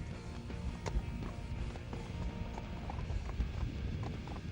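Horse hooves clip-clop along a trail by a lake on a riding-stable trek in Ireland, a steady walking rhythm with creaking tack amid outdoor rustle, close and continuous with no talking.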